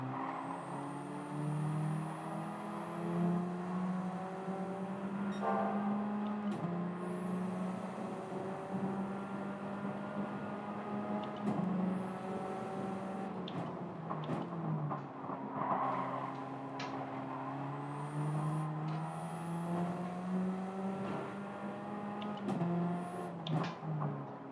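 Radical purpose-built track day race cars in Gran Turismo 7, on sports hard tires, with engines droning and shifting pitch steadily throughout, occasional tire squeal and revving surges, several cars close together, no talking.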